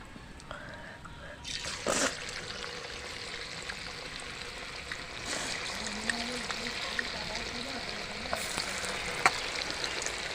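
Cabbage pakoras deep-fry in a pan of oil with a continuous bubbling hiss, broken by occasional bursts and scrapes as they are moved, while a voice murmurs faintly in the background.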